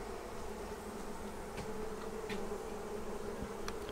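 Honey bees buzzing steadily at the entrance of an observation hive, a continuous close drone with occasional individual bees passing, and no voices.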